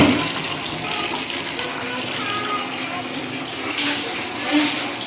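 Tap water runs steadily into a kitchen sink during washing, a continuous mid-level splashing stream with slight surges, no talking over it.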